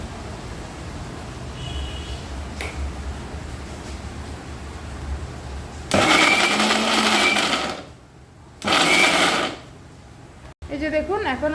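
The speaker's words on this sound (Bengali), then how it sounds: "এই যে দেখুন এখন আমি মিক্সির মধ্যে পেস্ট করে নিয়েছি।" A mixer grinder grinds dry jackfruit curry paste with no water added, giving loud, harsh whirring bursts in two main runs with a short pause between them, after quieter kitchen background.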